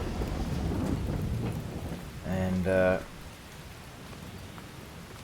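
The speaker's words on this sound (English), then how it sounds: "Oh, we are done just as the rain starts." Rain hisses steadily in a Farming Simulator game while someone talks over it. A short burst of rumbling thunder rises midway and then fades back into the rain.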